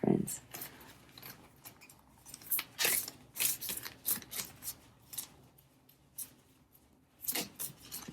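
Tarot cards riffled and shuffled by hand in a quiet room, giving a series of soft, crisp papery bursts with brief pauses between them, moderately close.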